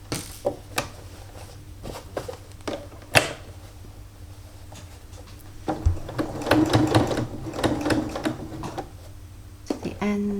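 A domestic sewing machine stitches fabric for a bag, sparse clicks and taps at first, then a steady whirring run of stitching at close range, with a voice talking over parts of it.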